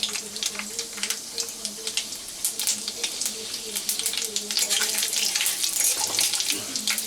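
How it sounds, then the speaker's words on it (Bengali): Panch phoron spices dropped into hot oil in a home kitchen while cooking bitter gourd, a crackling, sputtering sizzle with bright pops throughout and a low hum underneath. "তেলটা একটু গরম হতেই দিয়ে দেব 5 ফোড়ন"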